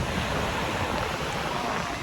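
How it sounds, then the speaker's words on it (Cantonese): Big ocean waves crashing below the cliffs at the Twelve Apostles, a loud, continuous surf roar mixed with wind buffeting the microphone, no talk. "呢度咧真係好大浪啊！"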